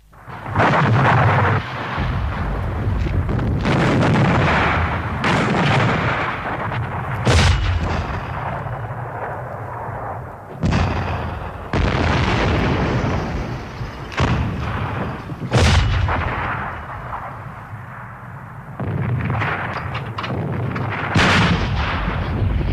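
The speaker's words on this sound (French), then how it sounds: "l'infanterie turque se lance contre les canons et les mitrailleuses anglaises" Heavy battle din from the 1915 Dardanelles campaign: booming cannon blasts and rattling machine-gun bursts pound on and off, loud and close, with dense rumbling between the sharp shots.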